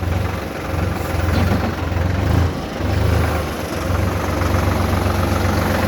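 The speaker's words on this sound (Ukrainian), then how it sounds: "Соліс 50 й з фронтальним навантажувачем щелепним." A Solis 50 tractor with a front jaw loader idles steadily with a deep low rumble and vibration, continuous throughout with slight swells in loudness, no talking.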